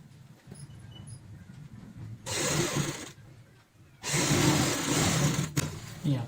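A sewing machine stitches a strip onto a handmade ladies' bag in two bursts of steady whirring, the second longer, with quieter gaps between them and soft handling noises around.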